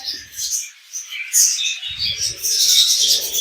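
Young chicks peeping in high, rapid chirps, several birds calling close by with brief low thumps and shuffling underneath.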